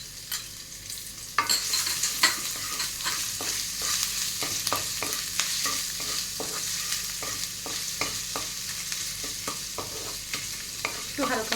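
Chopped ginger and green chilli fry in a pan for basanti pulao, a steady close sizzle broken by frequent sharp scrapes and clicks of stirring throughout.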